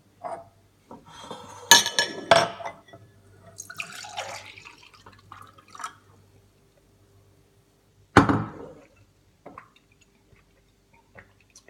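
Clinks, splashes and drips as Swedish saft juice is poured into a glass in a home kitchen, with a burst of glassy clatter early on and a sharp clink partway through, close and without talk.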